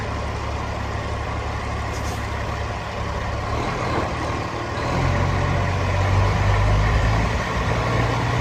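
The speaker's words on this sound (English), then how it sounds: "Starts up nice and smooth, guys." A 1994 Freightliner FLD112 truck diesel engine runs steadily up close, a loud continuous low rumble that grows heavier and rougher partway through as the revs rise.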